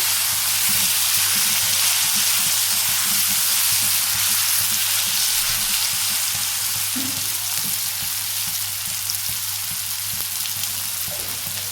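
Mughlai-style curry frying in a pan after a splash of water, giving a loud, dense, unbroken sizzle and bubbling that holds steady the whole time, with faint stirring. No talking.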